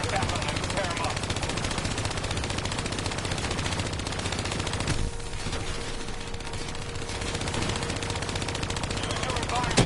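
Turret gunfire in the Call of Duty Black Ops 3 campaign, dense and continuous automatic bursts with booming impacts, loud and unbroken across the whole stretch, with battle noise layered around it.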